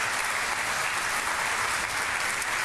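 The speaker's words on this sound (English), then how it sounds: "Give them a round of applause as well" Steady, dense applause from a ceremony audience honoring the building tradesmen and women at the LAX Airport Police facility ribbon cutting, a continuous even wash of clapping filling the whole stretch.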